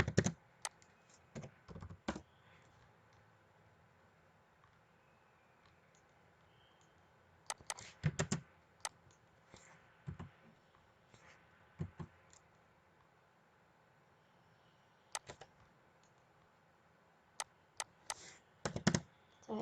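A computer keyboard typed on while drafting a house floor plan in CAD software, quiet scattered bursts of clicky keystrokes separated by pauses, close but soft over faint room noise.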